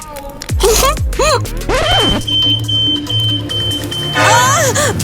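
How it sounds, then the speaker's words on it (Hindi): A home fire alarm sounds as a steady high electronic tone through the middle of the clip, with loud, excited voices and exclamations over it. "फायर अलार्म बज गया"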